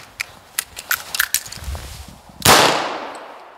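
A Colt Python 2020 revolver with a 3-inch barrel fires at 5 yards on a range: a few light clicks and taps, then one sharp, loud, close shot that rings and fades away.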